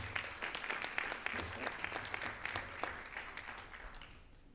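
Audience applause at a school board of education meeting, a steady burst of clapping that fades gradually toward the end, with no talk over it.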